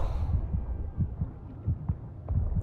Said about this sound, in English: the heart pounding noises too